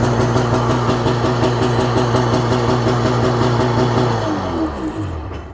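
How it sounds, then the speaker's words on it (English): The port-side motor of a worn 1995 Sea-Doo Speedster jet boat runs at a steady, loud, close idle with a regular pulsing beat, then winds down and slows near the end. "It's by far the easiest starting watercraft motor that we've got around here."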